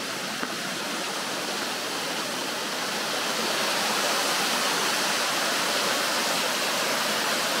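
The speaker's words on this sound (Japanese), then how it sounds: "はい、滝までやってきました。" Hirame waterfall on the Amagi walking trail in Izu, a small cascade near a bridge, heard close up as a steady, dense rushing roar of falling water that swells slightly louder midway and holds without a break.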